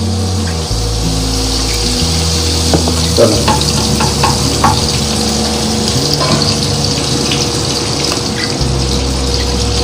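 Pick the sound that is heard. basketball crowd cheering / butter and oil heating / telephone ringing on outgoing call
butter and oil heating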